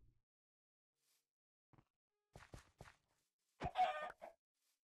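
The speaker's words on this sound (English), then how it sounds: "Let's just kill this chicken." Short clucks from a chicken in the video game Minecraft, a few brief separate bursts that are fairly faint and close, with quiet gaps between them.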